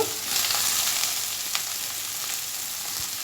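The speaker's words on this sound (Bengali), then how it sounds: "মাছ ভাজার যে তেলটা রয়েছে তার মধ্যে আমি মিডিয়াম সাইজের দুটি পেঁয়াজ কুচি দেবো" Two chopped medium onions hit leftover fish-frying oil, giving a faint, even hiss of frying that holds steady with no talking.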